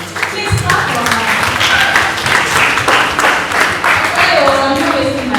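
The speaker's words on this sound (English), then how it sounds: "Please clap for her." Loud audience applause at a creative economy week panel on film production, dense clapping sustained for several seconds with voices talking over it.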